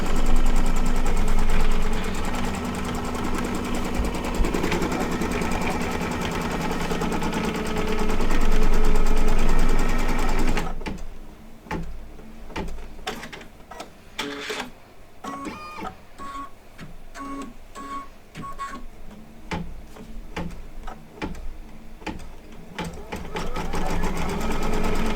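A sewing machine embroidering with bright turquoise thread on mylar or organza, first a steady loud motor hum, then fast rhythmic clattering stitches with short pauses, close and unaccompanied by talk.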